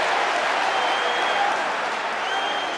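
Stadium crowd at a Munster versus Leinster rugby match, a steady, dense roar of massed voices and clapping holding loud and unbroken throughout.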